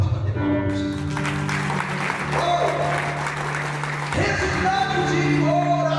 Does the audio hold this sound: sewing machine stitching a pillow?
no